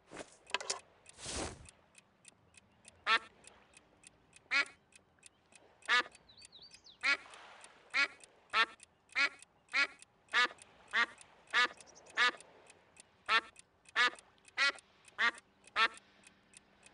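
A duck quacks over and over in the adventure game Escape from Monkey Island, a steady run of short, close, moderately loud quacks spaced evenly, with one brief louder burst near the start.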